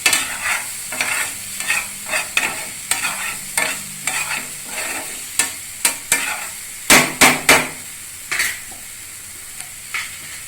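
Pasta and masala being stirred in a pan, a spoon scraping and tossing in repeated short strokes with a faint sizzle underneath, close and fairly loud, with a few sharper clanks near the middle.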